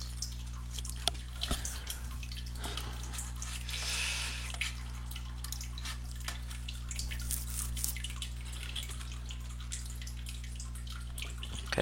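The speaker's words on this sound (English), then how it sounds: "Is it hard to hear over the trickling water?" A fish tank fountain trickles continuously in the background, a soft running and dripping flow with occasional small splashes, sitting over a steady low electrical hum.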